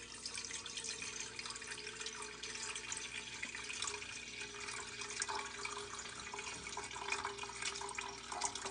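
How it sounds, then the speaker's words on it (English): Water being poured into a cooking pot for scallion oil noodles, a steady continuous splashing and running flow that lasts throughout, with no talking. "first, you need to add the water into your pot"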